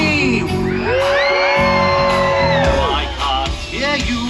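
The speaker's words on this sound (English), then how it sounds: "Alton Towers, let me hear you scream!" A large crowd at the Alton Towers fireworks spectacular screams and whoops together, a loud, dense, sustained roar of many voices with rising and falling shrieks and occasional shouts.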